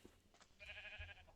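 A single sheep bleats in Minecraft, one short wavering bleat about a second long, quiet and close, with no talking.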